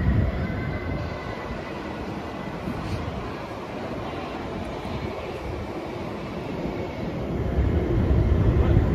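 A Sydney Metro train pulls into Chatswood station, a steady broad rumble and rolling hum that holds throughout and swells louder near the end as it draws close, with no voices.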